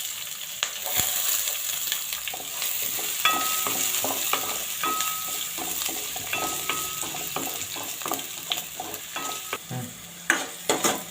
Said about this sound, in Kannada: ಜೀರಿಗೆ, ಒಣಮೆಣಸಿನ್ಕಾಯಿ, ಕರಿಬೇವಿನ ಸೊಪ್ಪು, ಈರುಳ್ಳಿ ಹಾಕ್ತೀನಿ